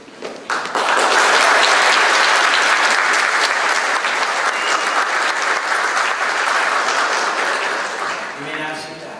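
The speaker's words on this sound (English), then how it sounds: "I would like you to thank those who have supported you most, your families, friends, and teachers, with your applause." Graduates at a commencement ceremony break into loud, sustained applause for their families, friends and teachers, a dense crowd clapping that swells quickly and holds before tapering near the end.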